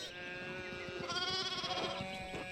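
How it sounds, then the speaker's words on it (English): Sheep bleating in the video game Pentiment, a single wavering, nasal bleat held for about two seconds, close and fairly loud, with no talk. "we need to get those sheep under control"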